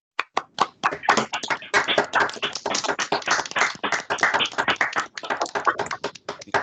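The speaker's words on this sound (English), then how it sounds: "just give Daryl a round of applause" Scattered claps from a small group of online meeting participants, starting sparse, thickening into steady close applause, then thinning back to a few claps at the end.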